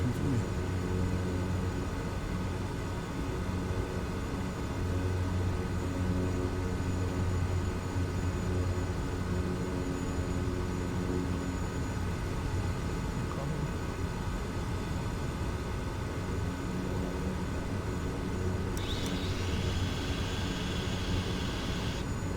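Kodiak 100 aircraft taxiing in Microsoft Flight Simulator 2020, a steady droning engine hum held constant for a long stretch, with a brief brighter whine near the end and a voice speaking over it.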